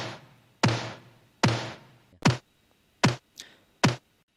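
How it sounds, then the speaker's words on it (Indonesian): Snare drum sample with 80s-style gated reverb for a retro K-pop mix: six sharp hits in an uneven pattern, the first two with longer bright tails and the later ones short and clipped, heard alone and up close. "Terus ada suara snare kayak gini."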